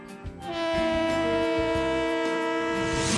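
A train passing on the railroad, its horn sounding a sustained, loud chord over the rumble of the rail cars, after a brief quieter start.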